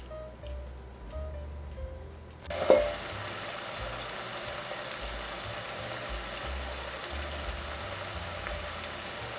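Garlic frying in a pan while being stirred, a steady soft sizzle that starts abruptly after a quiet opening, with one louder clank of the utensil early on, then an even crackling hiss to the end.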